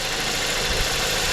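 A Ford Transit Connect engine idles smoothly after a motor mount swap, a steady, even mid-low hum with light vibration running close and unbroken throughout, with no talk over it.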